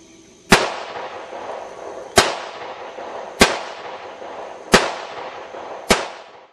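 Five loud gunshots ring out at a city shooting range in Fairbury, evenly spaced over about six seconds, each a sharp crack followed by a short reverberant tail.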